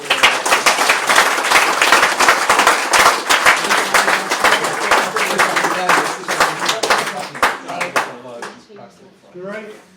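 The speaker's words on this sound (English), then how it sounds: "Can I suggest a round of applause for those people who just" A studio audience claps in a dense, loud burst of applause at a televised pairs quiz final in Liverpool, sustained for about eight seconds before thinning out and tapering off at the end.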